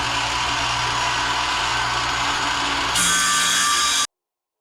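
Power saw cutting wooden boards for a table build, a steady whining drone that jumps to a harsher, louder pitch as the blade bites into the wood, then stops abruptly.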